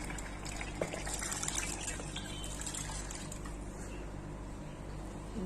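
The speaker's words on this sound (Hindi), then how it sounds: "इसमें मैं नाप का पानी डाल रही हूँ।" Measured water poured into a rice cooker over roasted maash (urad) dal, a steady soft trickle and splash running continuously at close range with no talking.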